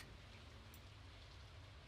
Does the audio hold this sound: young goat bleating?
no